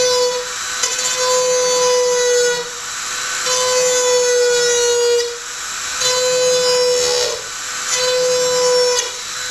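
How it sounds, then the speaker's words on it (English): A Dremel rotary tool drilling an angled hole to pass a cable, its steady high whine sustained loud and close, dipping briefly twice as the speed drops. "as I hold the Dremel, I align the axis of the Dremel with the hole and the center of that guy, and I have it at acceleration."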